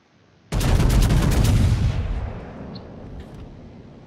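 Battleship main guns firing in a video game, North Carolina-class style: a loud, close salvo of several rapid blasts in quick succession, then a long rumbling decay fading out.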